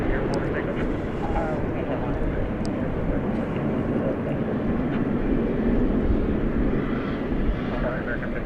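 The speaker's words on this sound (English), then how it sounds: "entering your shot there is American Flight 1536. It's going to Sacramento, California, an Airbus A321" An American Airlines Airbus A321 jet at DFW Airport, bound for Sacramento, makes a steady, broad engine roar that holds even and fairly loud throughout, with no distinct passes or breaks.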